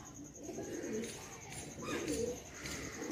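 Flying pigeons of star kalanka and kalsera type give a couple of soft, low coos, faint and close against a quiet background.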